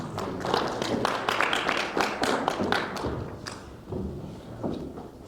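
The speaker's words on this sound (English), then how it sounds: "give her another round of applause for those amazing remarks" Audience applause at a young African leadership summit after a speech, a dense burst of many hands clapping with sharp slaps that holds steady and fairly loud before thinning slightly toward the end.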